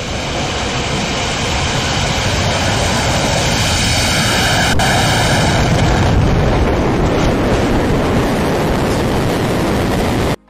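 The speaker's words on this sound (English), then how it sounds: "Firefly Aerospace's Alpha rocket launched from Vandenberg Space Launch Complex 2" A Firefly Aerospace Alpha rocket lifting off from Vandenberg Space Launch Complex 2: a loud, continuous, broadband roar that rumbles and crackles steadily without pause, fading to silence only at the very end.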